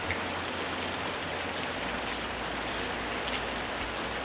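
Rain falls in a constant, even wash of soft hiss, a dense steady patter with no breaks, heard alone without any voice over it.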